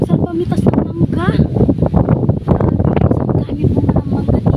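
Gusty wind at a nature park roars across the microphone in uneven surges, loud and constant beneath voices chatting nearby.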